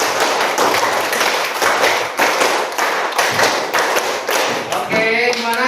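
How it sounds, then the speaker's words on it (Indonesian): Classroom of pupils clapping together in a patterned beat, sharp dense claps repeated in several bursts, loud and close, with a brief voice near the end. "Tepuk 5 3 kali."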